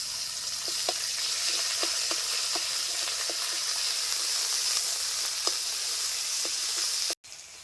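Ground spice paste fries in mustard oil tempered with dried red chillies and bay leaves, giving a steady close sizzle with faint scattered utensil clicks, ending in an abrupt cut.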